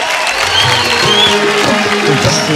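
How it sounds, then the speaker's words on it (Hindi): An audience on a Bhojpuri singing reality show applauds loudly to welcome a contestant, a dense, steady burst of clapping with some crowd noise. "जोरदार ताली से स्वागत करी"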